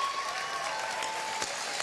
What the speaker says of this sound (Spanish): ¡Aplauso del público!